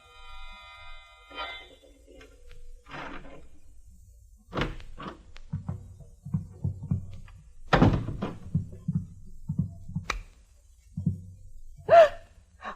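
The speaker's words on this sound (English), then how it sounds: "The sound of a key in the lock of the door." A key turning in a door lock in an old time radio drama: a quiet start with a gasp, then a series of metallic clicks, rattles and thunks, close and distinct.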